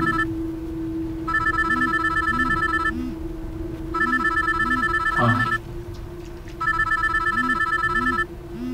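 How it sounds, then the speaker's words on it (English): A telephone ringtone repeats in three electronic bursts with short gaps, over a steady low hum and a repeating low tone pattern. "Why is Mama T's number ringing in your bag?"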